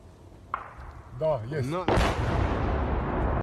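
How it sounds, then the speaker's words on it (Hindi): Heavy blast from a military strike on a Russian soldiers' position, a sudden loud boom followed by a long rumbling roar, preceded by a sharp thud and a brief wavering tone with voices mixed in. "जैसे ही धमाका हुआ, कान फाड़ देने वाली जोर की आवाज सुनाई दी"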